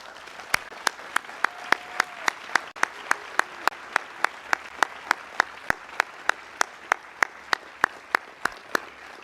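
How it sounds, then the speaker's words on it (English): A single person claps in a slow, even rhythm at a renaming ceremony, sharp distinct claps over a quiet room murmur rather than a full crowd. "Please join me in a rousing round of applause and appreciation, gratitude, and admiration for Larry and Susan Martindale, Don and Marc"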